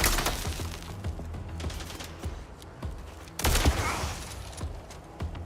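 Gunfire aimed at robots in the MindsEye game comes as irregular loud shots and bursts, with a heavy impact or blast near the middle and quieter crackling between.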